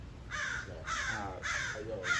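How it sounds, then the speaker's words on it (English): A crow caws four times in steady succession, each harsh call loud and fairly close, over a constant outdoor background hiss with no talking. "Definitely that crow."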